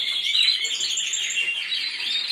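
Canaries chirp and twitter in quick high trills, a continuous bright stream of song at moderate, fairly close level with no voices.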